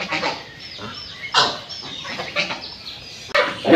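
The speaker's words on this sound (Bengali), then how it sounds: "হাঁস খাওয়ানো হয়ে গেছে" Village ducks quack and honk after their morning feeding, several sharp close calls scattered among softer chatter from the flock in an outdoor rural yard.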